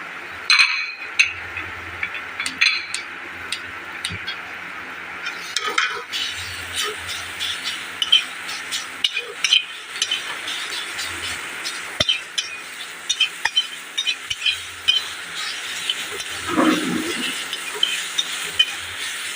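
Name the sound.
mushrooms (chatu) frying in a pan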